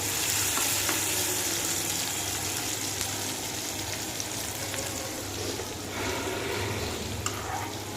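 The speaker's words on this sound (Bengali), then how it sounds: "মাছগুলো ভেজে রাখছি" Fish sizzles steadily in a hot pan, a continuous crackling hiss with occasional soft scrapes of stirring, and no voices.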